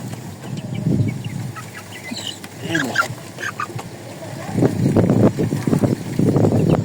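Several desi chickens cluck and call close by in short, irregular bursts, with a few higher squawks and low voices in the background.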